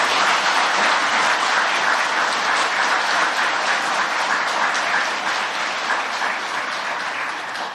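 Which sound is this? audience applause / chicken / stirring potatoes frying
audience applause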